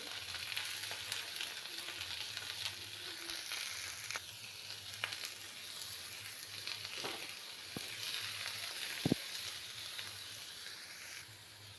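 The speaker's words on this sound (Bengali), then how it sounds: "পটলটা এবার আমি ভালো করে ভেজে নিচ্ছি" Pointed gourd sizzles steadily in hot vegetable oil with black cumin seeds, a close, constant frying hiss broken by a few sharp clicks and scrapes of stirring.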